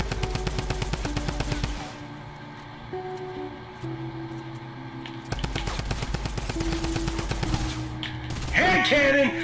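Rapid gunfire in Fortnite during a frantic build fight, with bursts of repeated shots, a gap in the middle and a dense run of shots again, loud and layered with game sounds and music.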